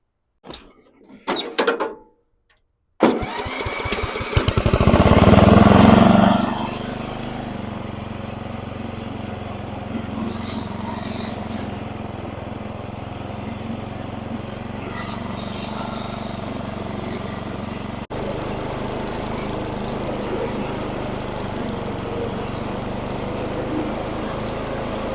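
A 1970s Sears lawn mower starts with a few sputters, surges loudly, then settles into a steady, close running drone while it mows poorly, with faint mechanical rattles throughout.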